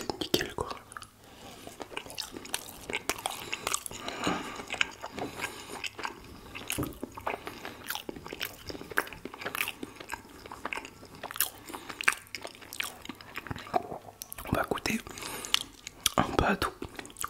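Close, crunchy biting and wet chewing of sushi with raw fish, in a steady run of sharp clicks and smacks over seventeen seconds, with whispered talk in the background.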